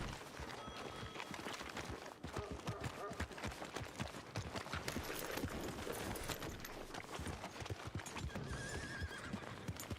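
Horse in the Western game Red Dead Redemption, with steady clip-clop of hooves and a whinny over a busy game soundscape, while a player talks now and then.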